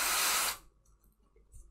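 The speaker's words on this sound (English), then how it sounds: "I'm just going to use a little bit of freeze spray." Freeze spray blasts onto a small cake topper in one loud, steady hiss lasting about half a second, then cuts off abruptly, leaving quiet room tone.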